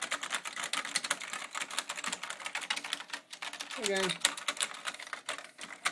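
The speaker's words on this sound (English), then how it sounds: "If I mash the keyboard," Keys of a Nascom 1 computer keyboard mashed rapidly, a dense run of close clattering key presses throughout, with someone talking over them.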